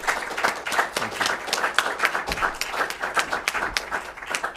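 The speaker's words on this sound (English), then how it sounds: "could we please give a big round of applause for our wonderful candidates this evening." Audience at a League of Women Voters candidate forum for Lafayette Parish assessor applauding the candidates, a dense round of individual claps with a lively, uneven rhythm throughout.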